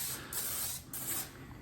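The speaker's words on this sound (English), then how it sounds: "We're gonna spray a lot on this pan." Nonstick cooking spray hisses from an aerosol can onto a metal pan in short, close bursts: a long spray, a brief pause, then another steady blast.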